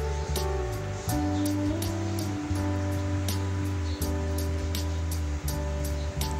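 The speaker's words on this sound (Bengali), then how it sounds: "বৃষ্টি আর বৃষ্টি।" A steady roar of heavy rain on a water-covered rooftop, with splashing and drips running off leaves, dense and constant throughout, no voices heard.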